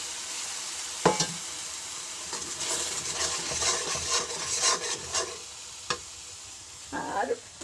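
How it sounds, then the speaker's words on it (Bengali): Meat masala with turmeric and chili sizzles in a pan as it is stirred, a steady frying hiss broken by sharp scraping clacks of a spoon against the pan. "এখানে এই যে হলুদ আর লঙ্কা এটা আমি মাখিয়ে রেখেছিলাম ঢেলে দিলাম"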